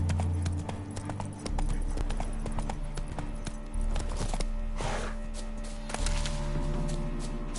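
A horse in The Witcher 3 gallops with steady, rapid hoofbeats, close and continuous over a low rumbling game ambience.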